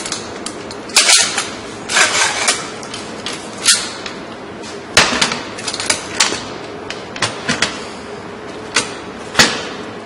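A woodworking clamp goes onto the top trim of a nightstand, making sharp, irregular knocks and clicks that are close and fairly loud, separated by short quiet gaps.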